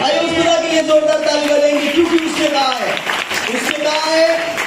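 A church congregation claps loudly and steadily for God, the applause running under a preacher's continuing speech throughout.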